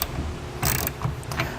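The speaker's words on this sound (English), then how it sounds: "we can grab our wrench and tighten it down" Short ratcheting wrench clicks while tightening a nut on a RetraxPRO XR hard tonneau cover clamp on a 2016 Ford F-150, with a few close, brief bursts of mechanical rattling and pauses between them.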